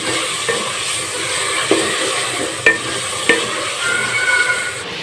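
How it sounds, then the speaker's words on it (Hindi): Tomatoes, chilies, onions and garlic fry in ghee in a pan, with a steady broadband sizzle running throughout and a few sharp stirring clacks of a utensil against the pan. "ये टमाटर, मिर्चें और प्याज मैंने डाल दिए हैं। लहसुन ये अच्छी तरह भून देती हूँ।"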